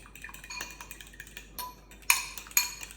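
A utensil mixes custard with cinnamon in a bowl, giving quiet, irregular clinks and scrapes close by, with a few sharper taps near the end and no speech.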